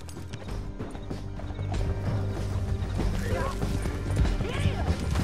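Horse hooves galloping in Red Dead Redemption 2 during a canyon chase, a busy clattering patter of hoofbeats under shouting riders and crashes, growing slightly louder toward the end.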